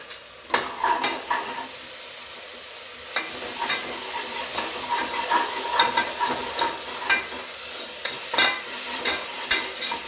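Ginger garlic paste being sautéed with cooked tomatoes in oil in a pan: continuous frying sizzle that grows louder partway through, with repeated spatula scrapes and taps against the pan, close and with no voices.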